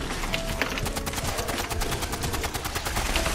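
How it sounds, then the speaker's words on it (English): Rapid automatic gunfire from weapons during a Fallout 76 raid mission. It is a dense stream of close, evenly spaced shots that carries on without a break. No one speaks. "Just keep shooting, you have the stronger weapon."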